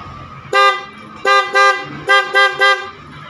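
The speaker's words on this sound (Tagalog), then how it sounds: "para may busina siya" A Yamaha R15 motorcycle horn, wired through a Domino switch, beeps in short bursts: one toot, then two, then three quick honks, loud and close.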